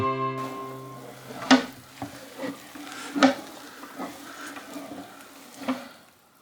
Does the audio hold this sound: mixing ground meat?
yes